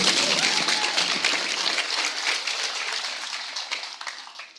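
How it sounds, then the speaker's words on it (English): Applause from the audience at a graduation ceremony in Namibia, a broad wash of clapping that is loudest at the start and gradually thins and fades out. "Please, a round of applause to them."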